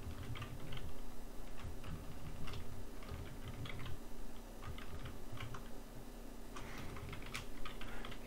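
Rapid, uneven clicking of keys on a computer keyboard, close and fairly quiet, with irregular bursts of keystrokes and short pauses throughout and no talking.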